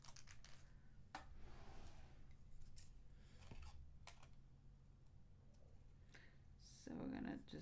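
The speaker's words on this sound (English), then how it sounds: "this one we're just gonna cut out. We're just gonna trim it all the way out." Scissors trim paper out around a craft tag while fussy cutting, giving quiet, intermittent snips and paper rustles close by. The snipping is faint and a voice is heard in the background.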